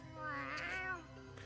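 Cat meowing in the video game Tales of Xillia 2, one drawn-out, wavering meow rising and falling in pitch, fairly quiet and heard alone.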